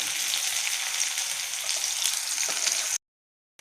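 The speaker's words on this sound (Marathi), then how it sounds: "मोहरी तडकली, आता कांदा टाकायचा त्याचा." Onion frying in hot oil in a kadhai with mustard seeds and cumin, a loud continuous close sizzle for about three seconds before cutting to silence.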